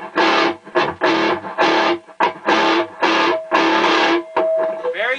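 Loud, clean electric guitar chords through a modified Mesa Boogie tube amplifier, strummed in bursts with brief pauses between, bright and full with little grit; a sustained note rings out near the end.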